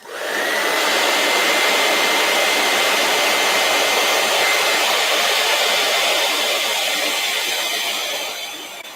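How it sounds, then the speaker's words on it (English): A heat gun blows a loud, steady roaring hiss that starts abruptly, holds constant for several seconds, then fades out as it is switched off, with no talking. "And now heat gun."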